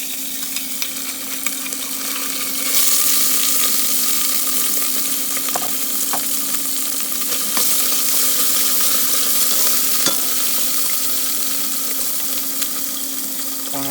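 Olive oil, about two tablespoons, sizzles and fries steadily in a pan, a continuous crackling hiss that grows louder after a few seconds, with occasional clicks and stirring scrapes and no talking.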